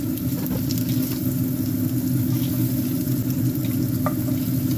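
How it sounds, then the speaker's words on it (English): Butter sizzles and spits steadily in a hot pan while being spooned over food, a dense continuous frying hiss with a low bubbling bed and a few faint clinks, no talk over it. "Just going to try basting some of this butter over it."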